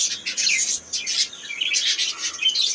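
Pet birds, an English and classic cross pair, chirp and tweet continuously in quick high bursts, close and fairly loud, with no talk.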